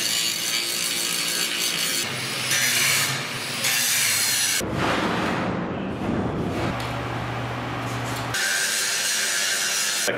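An angle grinder cuts a porthole opening in a boat, a steady loud whine and rasp that shifts pitch and texture as the blade bites and eases, with no talk over it.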